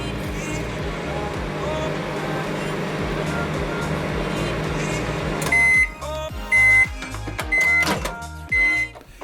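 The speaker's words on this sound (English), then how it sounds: "go to your microwave and throw the sock in for no more than 1 minute" A microwave oven heating a sock hums steadily, then gives several loud beeps at regular intervals as it finishes.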